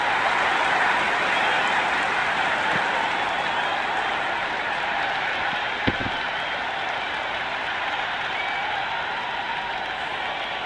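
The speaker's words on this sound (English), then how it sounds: "It's evident and ever so audible that the crowd is at near bursting point at today's play" A cricket stadium crowd in the Cricket 26 video game keeps up a steady, dense roar of cheering and clapping, broad and distant, with one faint thump partway through.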